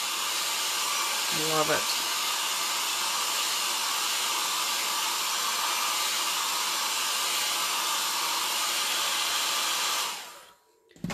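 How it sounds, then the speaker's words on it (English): A blow dryer on its cool setting runs as a loud, steady whoosh while drying a transfer, with a few spoken words near the start before the airflow cuts off at the end. "I used the cool setting on my blow dryer because you don't want to get heat on the transfer."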